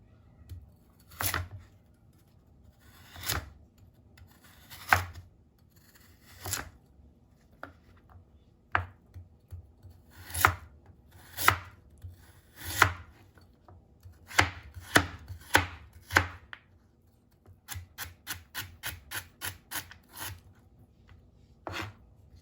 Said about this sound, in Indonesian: Ieu nya wortelna disiksikan dadu leutik-leutik.